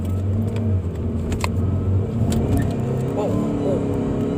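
A Wuling Cortez 1.5 Turbo CVT family car pulls away under acceleration, a steady loud engine drone rising slightly as it picks up speed, with a voice talking over the cabin noise.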